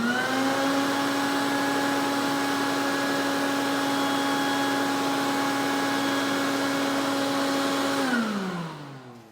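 A Stinger shop vacuum runs at a constant, loud, close whine and rush of air for about eight seconds, then powers down with a falling pitch.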